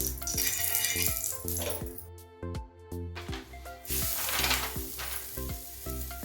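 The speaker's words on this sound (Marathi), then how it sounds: "खमंग चांगले भाजून घेऊया तूप सोडून घ्यायचं आहे" Loud, crackling sizzle of a fasting-style thalipeeth flatbread roasting in ghee on a hot griddle, with a brief quieter gap midway before the frying surges again.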